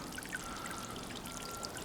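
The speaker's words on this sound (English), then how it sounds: "It's actually quite a nice high little jets of water." A tiny solar-powered water fountain pump sprays small high jets of water into a bucket outdoors, giving a steady close splashing and trickling patter with no talk.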